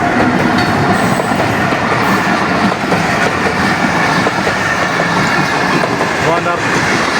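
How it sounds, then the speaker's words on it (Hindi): The Khyber Mail passenger train, hauled by GU40 locomotive 9039, pulls out of Karachi Cantt station with a loud, steady rumble and clatter of wheels and carriages close by, continuous throughout. "खैबर मेल तो GU40 9039 रवाना हुई अपने मुकर्रर वक्त से 15 मिनट लेट कैंट स्टेशन"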